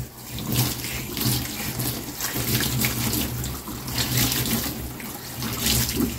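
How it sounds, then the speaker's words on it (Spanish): A scouring pad rinsed under a running kitchen tap, with water gushing and splashing steadily for several seconds and swelling and dipping as the pad is worked under the stream. No one speaks. "Vamos a enjuagar perfectamente bien nuestro estropajito que tenemos."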